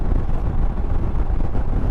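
Breezy pre-rain wind buffets the microphone on a Royal Enfield Himalayan ride from Munnar to Valparai, a loud, constant low rumble with no voices.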